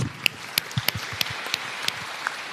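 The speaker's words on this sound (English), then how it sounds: "So a big applause for Toby." Conference audience at a European science-for-policy meeting applauds, a fairly sparse, moderate patter of individual claps over a hushed room.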